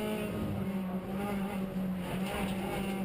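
Orange number 27 Ford Fiesta hot hatch race car working through a chicane at a club circuit round, a steady loud engine drone with a briefly shifting pitch, heard without talk.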